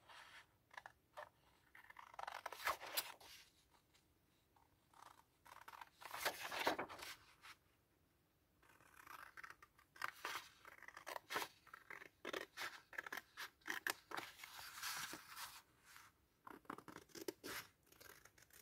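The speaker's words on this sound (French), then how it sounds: "On va couper ce tag." Scissors snip through a paper tag in repeated crisp cuts, close and fairly quiet, with short pauses and rustling of paper between bursts.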